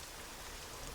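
Rain falls in the Pacific war strategy game Strategic Mind: The Pacific, heard as a faint, steady, even hiss over a single brief moment.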